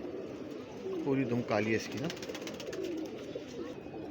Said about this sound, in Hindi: ये कलदुमा कबूतर है, सफ़ेद चोंच के ऊपर, गहरी नीली आँख का कबूतर है।